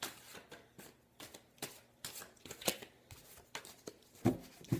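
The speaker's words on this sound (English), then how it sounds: "So I take your tarot deck here and just shuffle it." A tarot card deck is shuffled by hand, producing a quiet series of crisp, papery flicks and riffles in irregular bursts with no talking.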